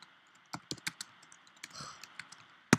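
Irregular keystrokes on a computer keyboard come in a sparse, close run of light clicks, ending in one louder tap, while someone enters a spreadsheet cell formula.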